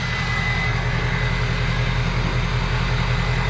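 A loud, steady, rumbling engine drone with strong low-end pulsing from an unmuffled diesel exhaust on a 2003 Ford F250 4x4 pickup idling close by, with no talking.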